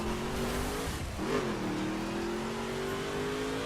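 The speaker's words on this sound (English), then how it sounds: "Has a very nice exhaust note to it." An American muscle car in the racing game The Crew accelerating, its exhaust note a steady throaty drone that rises in pitch after a brief dip between gear shifts, loud and continuous with no voice.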